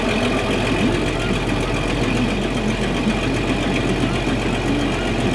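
A tractor engine idles on a South Dakota cattle ranch, a loud, steady, close rumble with an even mechanical knock that holds without a break.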